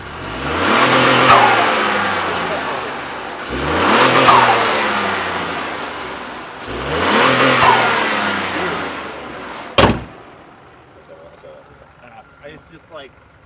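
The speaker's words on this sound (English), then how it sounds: "Can y'all hear that turbo noise?" A 2021 Ford Bronco Sport Outer Banks 4x4 turbo engine, heard with the hood open, revs in three loud, close swells that rise and fall. A sharp thud follows, then faint voices over a quieter idle.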